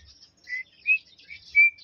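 A bird at the seaside whistles in short, clear notes that sound almost human, three or four brief rising whistles against near silence.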